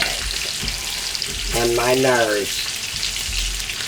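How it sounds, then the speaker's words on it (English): Bacon frying in a pan for country pancakes, a steady broadband sizzle running throughout with a voice speaking briefly over it partway through. "she's frying the bacon, that way we'll have plenty of grease for the pancakes"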